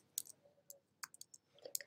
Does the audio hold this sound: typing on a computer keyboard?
yes